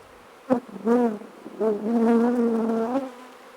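Honeybees buzz loudly and close during a bee shaker varroa test with powdered sugar, several rising and sustained drones in succession with no talk.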